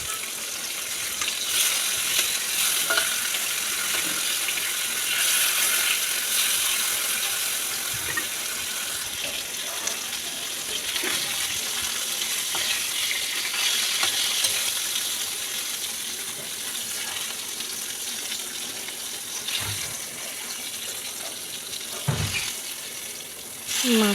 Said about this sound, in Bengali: মাছটাকে সুন্দর করে একটু গায়ে দাগ লাগিয়ে লাগিয়ে একটু লাল লাল করে ভাজবো।